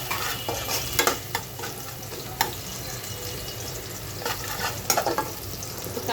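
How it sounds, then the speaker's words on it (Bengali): Chopped onion frying in a pan, a soft continuous sizzle broken by scraping stir strokes and occasional clinks of a utensil, fairly quiet and close. "পেঁয়াজ কুচিটাকেও আমি একটু ভেজে নেব।"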